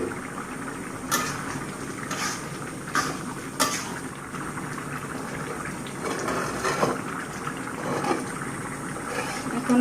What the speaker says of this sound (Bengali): ঢাকনা উঠিয়ে নিলাম। ঝোলটা আমার বলক চলে আসছে।